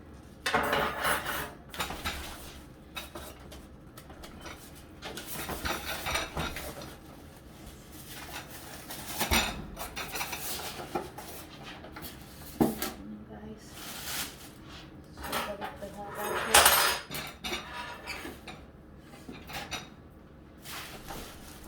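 The metal tray and accessories of a Kalorik Maxx air fryer oven being handled during unboxing, with repeated clanks, scrapes and rattles of metal at irregular intervals while a person talks throughout.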